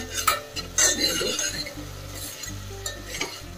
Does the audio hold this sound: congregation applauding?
no